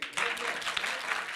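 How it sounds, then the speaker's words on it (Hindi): A studio audience at a televised debate show claps in a sustained burst of applause, fairly faint and steady, with a voice faintly underneath. "तालियों की गूंज आ रही है उस तरफ से"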